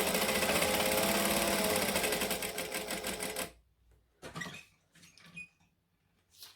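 A domestic sewing machine runs steadily for about three and a half seconds, stitching across the end of a bag handle, then stops, leaving a few faint clicks and rustles of handling.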